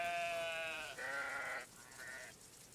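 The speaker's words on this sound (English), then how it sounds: "A flock of curious and very sociable sheep." Sheep in the Book of Travels video game bleat in long, wavering calls, two overlapping bleats followed by a shorter, fainter one, loud and close with no talking.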